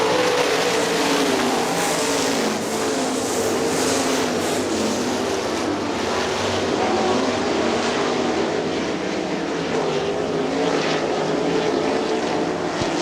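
Outlaw sprint cars race around the Hartford Speedway Park dirt oval, engines roaring steadily and continuously at full throttle as the pack passes, loud and sustained with no pauses.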